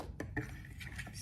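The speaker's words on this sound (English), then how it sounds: "stir it up" A spoon stirs a matcha and moringa gummy mixture in a dish, giving a few quick clinks and scrapes against the container, close and soft, with no talking.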